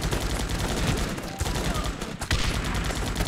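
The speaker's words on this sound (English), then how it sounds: "He's just still shooting." Enemy gunfire in the Guns Up! video game, a sustained rattling fusillade of shots at steady loudness, with brief gaps near the middle and someone speaking faintly underneath.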